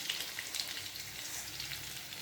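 Mustard seeds, cumin and crushed garlic crackle and fry in hot oil, a steady close sizzle with scattered pops throughout.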